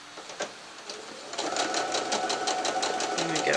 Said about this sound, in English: We're now going to stitch on that line right the way across.